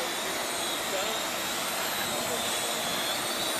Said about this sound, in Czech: Tady vysí úplně dobrý dron.